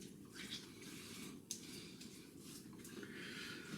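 Water splashing and sloshing as a face is washed at close range, a continuous soft wet wash with a couple of brief sharper splashes, quiet overall and with no one speaking.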